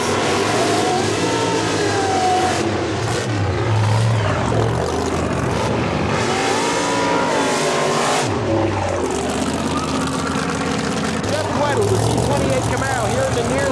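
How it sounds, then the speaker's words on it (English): Supercharged Z28 Camaro and Datsun 300ZX drag cars, each with a big Rodeck engine, roar steadily and loudly throughout with rising revs, while a commentator talks over the engines. "Big supercharged Rodeck smoking through the hood."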